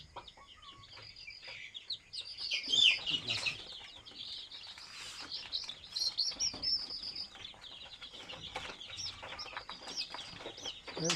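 Young desi chicks chirp in a shed after a Gumboro vaccination, a busy overlapping chorus of high peeps with occasional clucks, fairly close and continuing throughout.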